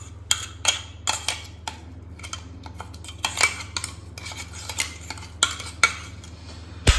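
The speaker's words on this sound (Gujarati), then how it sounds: "હવે આપણે આમાં સ્ટફિંગ કાઢી લઈશું આ જ પ્લેટમાં" Sabudana vada stuffing is scooped from a pan onto a plate with repeated clinks and scrapes of a spoon on metal, irregular and close, over a low steady hum.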